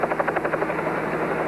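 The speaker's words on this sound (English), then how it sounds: "Warden Horner to helicopter N975B" Helicopter N975B in flight in a 1950s television series: a loud, close rotor chop that beats rapidly and evenly before blending into a steady engine drone.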